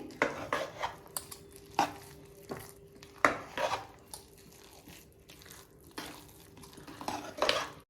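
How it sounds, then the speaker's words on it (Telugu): Ragi flour worked into cooked rice in a pot for village-style ragi sangati, with a utensil scraping and knocking against the pot in close, uneven strokes, and no talking. "ఇప్పుడు సిమ్లోనే ఉంచేసి మొత్తం కలిసే వరకు తిప్పుకోవాలి"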